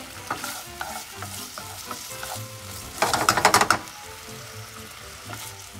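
Swordfish frying in the same oil just used for chicken, a loud crackling sizzle with a burst of intense spattering midway, plus clinks of a utensil against the pan.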